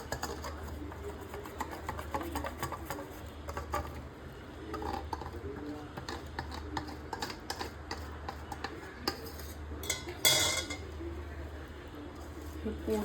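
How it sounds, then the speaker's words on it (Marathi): Wet and dry brownie batter ingredients are stirred together in a bowl with a spoon, giving soft, irregular scraping and tapping throughout, with a sharper clatter near the end and faint household background. "हे जे सगळे वेट इन्ग्रेडियंट्स आणि ड्राय इन्ग्रेडियंट्स आहेत ते आता आपल्याला मिक्स करून घ्यायचे"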